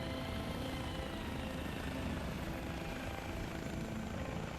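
A Chinook helicopter in a flight simulator game gives a steady, loud rotor and turbine drone with broadband wash that holds evenly throughout, no voices over it.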